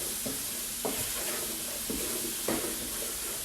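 Onions and mushrooms sizzle steadily in a frying pan while a wooden spoon scrapes and stirs across the bottom in several distinct strokes, close and moderately quiet.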